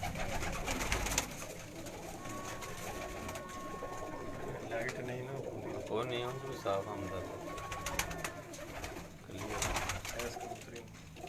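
Breeder pigeons coo low and steadily in the background while someone talks nearby over a noisy, crowded ambience.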